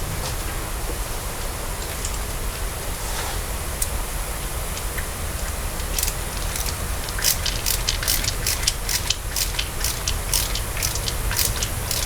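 A small tool works a T20 screw on a shop air compressor piston, giving a run of quick, faint ratcheting clicks that grow busier toward the end over a constant broad hiss.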